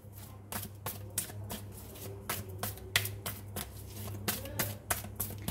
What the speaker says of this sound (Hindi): अभी साइकिक टैरोट से भी मैं कुछ कार्ड्स निकालती हूँ और देखती हूँ यहाँ से क्या आता है